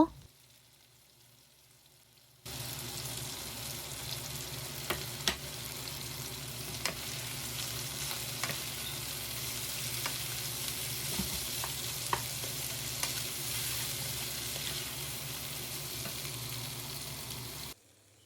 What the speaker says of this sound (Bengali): চিকেনটা ভাজা হয়ে গেলে আমি এখানে পেঁয়াজ আর শুকনা মরিচ দিয়ে দিব